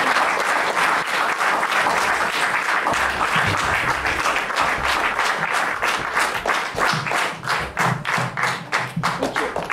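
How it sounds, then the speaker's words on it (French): Show audience applauding for a slam poet named Henri, a loud, sustained burst of clapping that later turns into sharper, more distinct rhythmic claps near the end. "S'il vous plaît, je vous demande d'applaudir."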